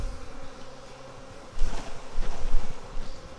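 Honey bees buzz around a beekeeper's veil during a hive split, a close, insistent drone that swells louder in the second half as bees circle near the head.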